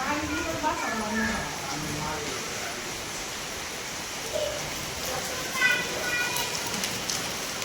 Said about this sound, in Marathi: खूपच जोरात पाऊस यायला लागला